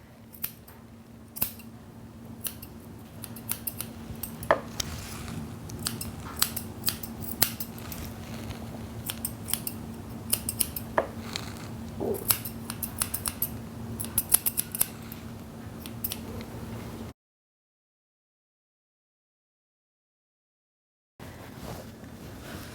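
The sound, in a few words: curved scissors trimming dog paw fringe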